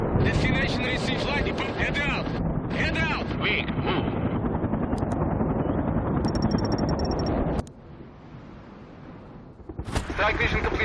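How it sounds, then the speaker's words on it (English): A Mi-24 heavy attack helicopter in the World in Conflict game roars loud and close amid gunfire and explosions, with voices over the din, before dropping to a quieter rumble and flaring up again. "Heavy attack helicopter is inbound."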